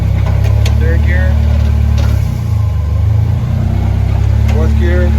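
A K-swapped Fiat 124 Spider engine runs in third gear during a gear test with the rear wheels spinning. A loud, steady low drone holds throughout, dips briefly midway, and has faint whine-like tones over it.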